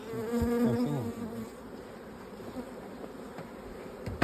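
Honeybees buzzing around beehives in hot Antalya weather during queen introduction work, a close steady hum with a louder pulsing drone at the start, then a fainter continuous buzz.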